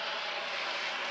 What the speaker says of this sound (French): Là, il y a un hélicoptère qui passe.